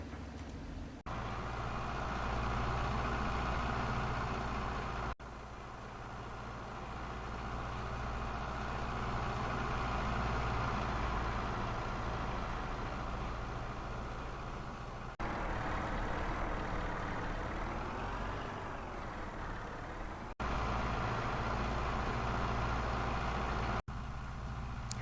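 Tractor engine idling in Farming Simulator 22, a steady low rumble with even harmonic drone that runs continuously and close, with small shifts in tone and level partway through, and no voice over it.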